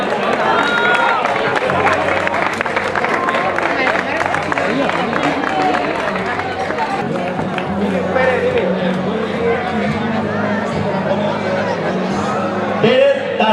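At a Canals cycling race prize ceremony, a crowd applauds the winners with a spread of clapping and hubbub under an announcer's amplified voice calling out names.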